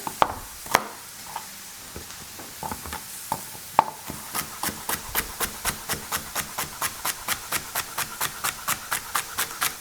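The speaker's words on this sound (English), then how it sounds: "While our ground beef is cooking, you can chop up 1 whole onion" Knife chopping a whole onion and celery ribs on a cutting board, a few scattered cuts at first, then a steady fast run of crisp evenly spaced thuds up close.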